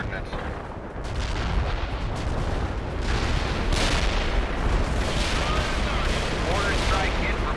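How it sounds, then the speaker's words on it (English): Mortar fire in the war video game World in Conflict, with dense rumbling booms and crackling blasts that build into a sustained barrage, and voices heard underneath. "2-9 are firing mortars at the target coordinates"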